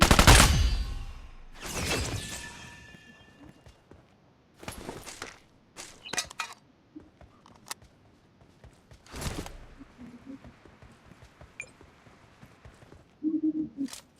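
Gunfire in an online shooter match rings out in scattered bursts, a loud volley at the start and then sharp single and short-burst shots that sometimes sound distant, separated by quiet gaps with light in-game ambience.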